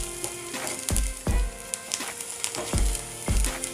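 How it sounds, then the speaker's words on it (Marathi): Cloves and black peppercorns frying in oil in a pan for a Konkani surmai curry: steady close sizzling with repeated sharp scraping and stirring knocks of a spoon against the pan, no talk. "आणि याला ना असं छान तेलामध्ये परतून घ्यायचं."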